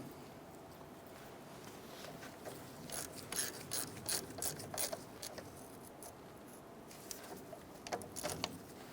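A hand ratchet clicks in short bursts, snugging brake caliper bolts on a 1993–1997 Ford Ranger, with quick rattling strokes in uneven clusters over a quiet background.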